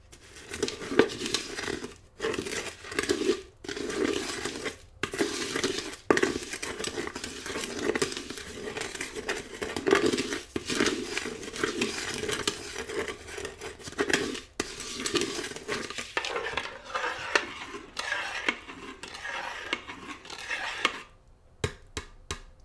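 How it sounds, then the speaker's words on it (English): A spoon stirs a potion in a pot, scraping and clinking steadily against the sides with soft wet swishes and crinkles. It is close and intimate, with brief pauses between rounds and no talking. "just a last stir before we say our spell over the potion"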